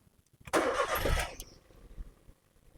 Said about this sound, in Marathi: गाडी चालू झाली आवाज आपल्या लक्षात येतो बघा